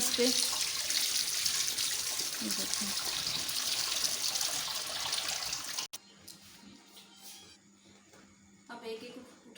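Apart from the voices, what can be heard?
cold water poured over boiled lasagna sheets in a strainer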